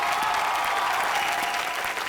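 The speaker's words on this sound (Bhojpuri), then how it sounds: "उसके लिए भी जोरदार तालियां।" Steady applause from an awards-show audience at the IBFA ceremony in Malaysia, a dense wash of clapping that holds at an even level throughout the short burst.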